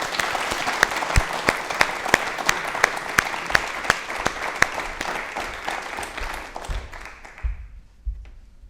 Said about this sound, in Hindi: एक बार तालियां इनके लिए जोरदार हो जाएं